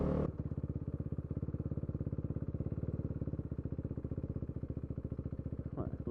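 A motorcycle engine running close by with a fast, even pulsing beat that holds steady throughout, with a slight rise in the revs near the end and no voices.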